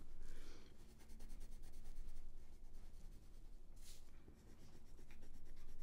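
Steady, scratchy rubbing of a Faber-Castell Polychromos colored pencil coloring on grainy black paper with heavy pressure, close and continuous with rhythmic back-and-forth strokes and no talking.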